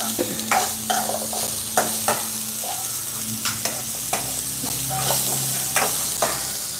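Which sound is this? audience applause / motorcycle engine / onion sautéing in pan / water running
onion sautéing in pan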